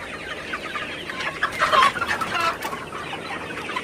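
A flock of Sonali chickens on a poultry farm clucks and murmurs in a dense overlapping chorus, swelling louder midway before settling, with no talk over it.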